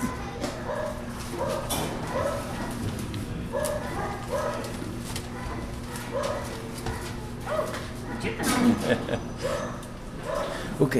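Puppies yip, bark and whimper in a series of short, high, repeated cries, fairly close, with people talking softly over them.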